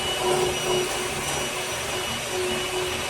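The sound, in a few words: electric mixer whisking eggs into cake batter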